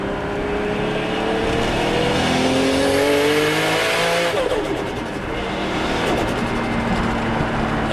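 A Nissan Skyline GT-R R33 V-spec engine revs hard, climbing in pitch then dropping, followed by rapid throttle blips; loud and close with no talking.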